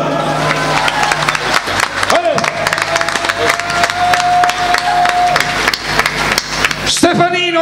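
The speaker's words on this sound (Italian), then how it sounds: "Fatevi un applauso" A crowd in a town square at a circus band event claps and cheers, dense clattering applause under a loud announcer's voice, with a sustained tone running through and a brief musical flourish at the end.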